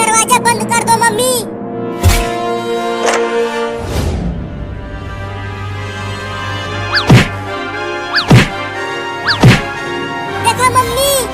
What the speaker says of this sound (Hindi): देखो मम्मी, वो कमीनी बिलार दरवाजे को कैसे मार रही है